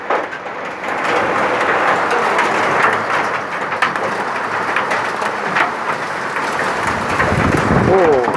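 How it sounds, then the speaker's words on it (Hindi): Heavy storm rain pours steadily in Muzaffarabad, Azad Kashmir, a loud, dense hiss with scattered knocks and patters on nearby surfaces that holds for the whole stretch, with no distinct thunderclap standing out. "ये अब तूफान की शक्ल इख्तियार कर गई है, ये देखें, वो बारिश अब तूफान है, बहुत तेज बारिश है।"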